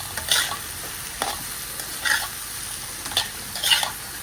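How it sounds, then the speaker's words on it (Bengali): Panch phoron spice mix fries in a pan with a soft, steady sizzle, punctuated by several light stirring scrapes and clinks, quiet and close with no talking. "এই যে দেখো পাঁচফোড়ন একটু ভাজা করে দিচ্ছি,"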